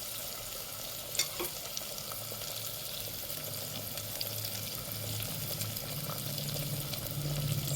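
Dry fish pieces with turmeric and pink salt frying in a pan, a steady, even sizzle with faint stirring scrapes, getting slightly louder toward the end, no voices.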